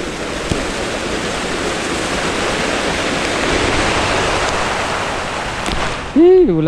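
Heavy, unbroken rain pours down in a dense, steady hiss, loud and near, before a brief voice cuts in at the very end.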